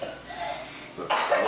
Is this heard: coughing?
yes